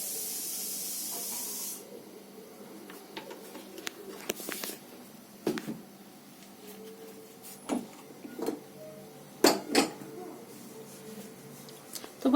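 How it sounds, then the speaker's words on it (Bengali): Oil is poured into a hot wok (kadai) for cooking vegetables, and a loud, steady hiss comes up for about two seconds. After it, quieter clatters and scattered kitchen knocks follow. "তো বন্ধুরা, কড়াইতে আমি তেল দিয়ে দিচ্ছি।"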